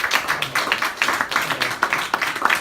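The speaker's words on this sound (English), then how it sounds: "Can you give him a round of applause" Audience applause for poet Ian Henry at a TUC and Stand Up To Racism event, a dense wash of many hands clapping at close range, steady and loud throughout.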